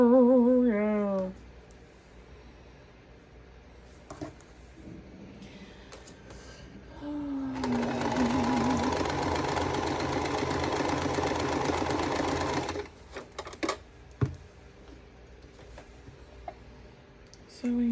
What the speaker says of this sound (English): I'm just a sewing machine